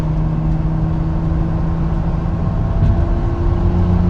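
Nissan Stagea 260 RS driving through curves: a steady, loud engine hum and road rumble heard from inside the car, with no talk.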